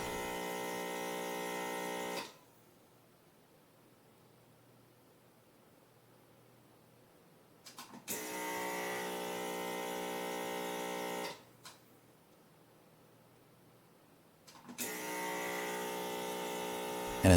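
A DIY vacuum pick-and-place tool for SMD circuit assembly runs in two long stretches of steady hissing, motor-like whir with valve clicks at the switching points. Each stretch is broken by a quiet gap of several seconds.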